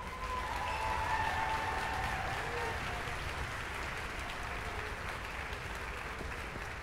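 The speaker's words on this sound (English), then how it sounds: "please, a round of applause for Ms. Margie Keith and Ms. Diane Dannenfelser" Audience applause at a high school music festival in Philadelphia, a steady, dense wash of clapping from a large crowd that holds at an even level throughout, with faint voices mixed in.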